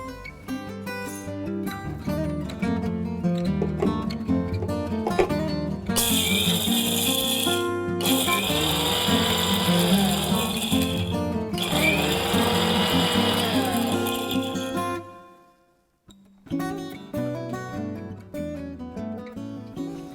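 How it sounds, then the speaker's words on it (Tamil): A mixer grinder grinding roasted gram into powder, a loud whirring drone in several bursts with a brief pause near the end, heard over background music. "இப்போ நம்ம பொட்டுக்கடலையை அரைச்சி நல்லா பொடி பண்ணிக்கலாம்."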